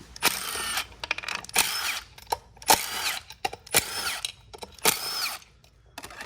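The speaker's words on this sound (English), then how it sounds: "taking out these 6 bolts to swap over the manual fan clutch" Power tool spinning out the 1/2-inch fan clutch bolts on a 6.0 Powerstroke diesel, several close, loud whirring bursts in quick succession with short pauses between them.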